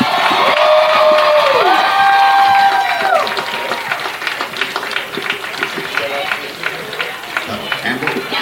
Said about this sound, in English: give the outstanding student athletes a round of applause